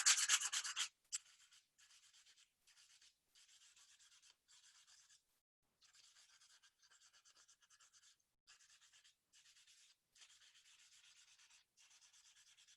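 Sandpaper of 100 grit is rubbed by hand over a painted surface, smoothing fine scratches left by a coarser 60 grit. One louder pass opens, then a long run of short, even, faint strokes with brief pauses between them.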